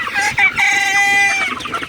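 Chickens on a poultry farm in cold weather cluck loudly and close by while a rooster crows, the sounds overlapping in a busy burst with no talk.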